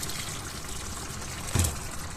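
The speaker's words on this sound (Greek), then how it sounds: "Θα προσθέσουμε ζεστό νερό" Hot water poured into a pot of tomato mince sauce, a steady splashing pour that briefly swells partway through.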